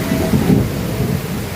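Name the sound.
heavy rain and thunder outside an exam center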